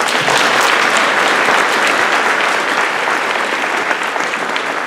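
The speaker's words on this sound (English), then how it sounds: "So if you guys could give Tempo a round of applause." Audience at a high school band holiday concert applauds steadily, a dense, loud wash of clapping that fills the whole stretch without letup.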